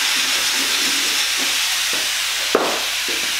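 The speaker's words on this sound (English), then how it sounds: "You can hear my one sizzling." Steak and peppers for fajitas sizzle in a hot pan with a loud, steady hiss, interrupted by soft stirring knocks and one sharp clack.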